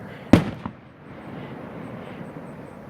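Fireworks go off at a summer fair, with one sharp, loud bang and a fainter second pop soon after, then a low rumbling echo fading into distant crowd murmur.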